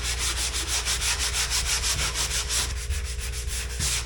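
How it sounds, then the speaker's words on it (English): A sanding block rubs back and forth over a drywall patch in steady, rapid strokes, a close, dry scratching rhythm that fills the clip without talk. "the only thing I need to do now is sand it down"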